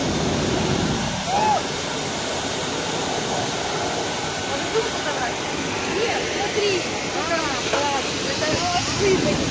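Steady roar of a small airplane's engines running close by on the tarmac, a broad constant wash of noise with brief voices breaking through now and then.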